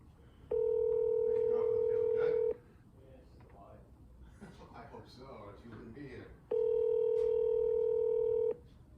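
A telephone placing an outgoing call gives two long, steady ringing tones about four seconds apart, with a person talking quietly between them.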